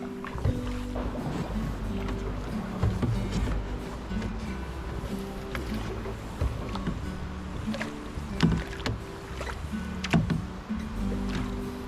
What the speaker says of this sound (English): This upper section was paddled by me and my husband Tim.